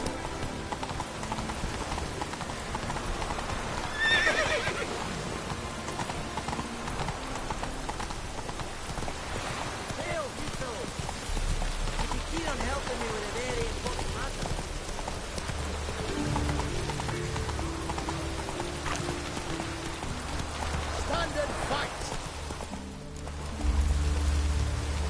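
Horse hooves clip-clop steadily at a gallop in The Witcher 3, the rhythmic beats running the whole time over a constant rain-like ambient wash, with no talk.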